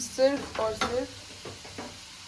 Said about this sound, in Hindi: मैंने प्याज और लहसुन का फ्राई कर रही हूँ मैं इसको